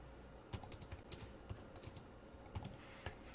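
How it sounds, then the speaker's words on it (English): Quiet, close keystrokes clatter on a computer keyboard in an irregular typing rhythm, with no voices over them. "Now, as I'm typing this,"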